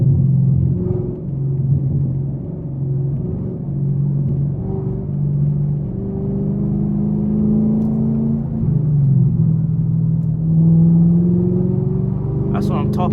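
Straight-piped Chevrolet Camaro SS driving in afternoon traffic, a loud, continuous low engine rumble with shifting tones as it cruises and pulls, close and steady throughout.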